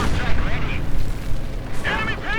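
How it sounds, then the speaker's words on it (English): Panzerwerfer rocket artillery in Company of Heroes 2 fires in rumbling booms mixed with other battle noise. A commentator's voice runs over the top. "the Panzerwerfer fires away with glee"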